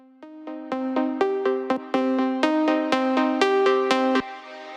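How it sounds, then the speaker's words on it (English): Plucky synth melody from a melodic house track, sharp repeated notes in a steady rhythm, with a hall reverb send swelling in so the tails grow longer and fuller, loud and alone. "the Hall send is coming in, which is creating more space"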